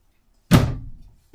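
A pocket door in a 2019 Jayco White Hawk 32KBS travel trailer slides shut with a single loud thunk, and the sound fades quickly into silence.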